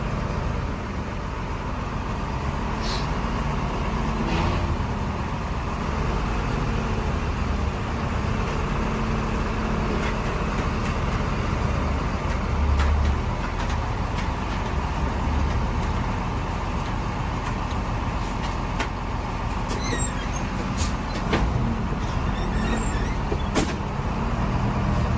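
A Jaya Utama intercity bus on the Purwodadi–Surabaya route pulls away and drives on, a continuous low engine rumble with road noise and occasional rattles inside the cabin, steady and close, no talk.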